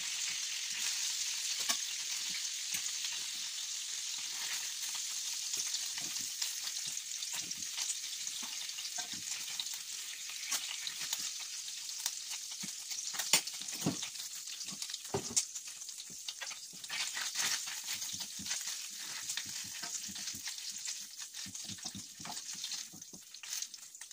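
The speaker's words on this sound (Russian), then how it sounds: "Ну все, пожарил с обеих сторон." Food sizzling steadily in a frying pan in a Russian village kitchen, a continuous close hiss with occasional pops and crackles and no talk.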